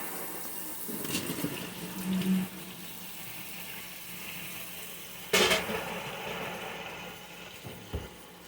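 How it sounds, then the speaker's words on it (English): Cold tap water runs into a sink strainer over cooked pumpkin, a steady, soft gushing stream with a louder splash burst partway through, close by and without talk. "Just running some cold water over it to stop the cooking process."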